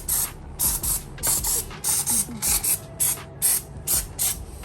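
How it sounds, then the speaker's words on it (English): Rapid hissing bursts from a trigger spray bottle onto a Tesla Model Y Performance wheel, about a dozen quick squirts in a steady rhythm, close and fairly loud. "I could spray some product"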